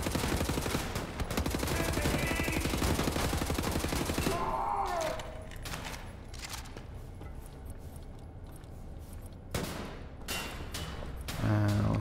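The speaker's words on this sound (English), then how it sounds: "Is that buckshot? Are they killing themselves with their own buckshot?" Rapid shotgun buckshot blasts in a first-person shooter, Wolfenstein: The New Order, in a dense loud burst over the first few seconds, then scattered sharper shots and clatter with game music underneath.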